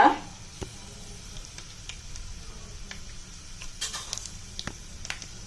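Chana dal and raw green peas frying in a pan for tomato kurma, a quiet, steady sizzle with occasional soft clicks and stirring scrapes, close by and fairly faint.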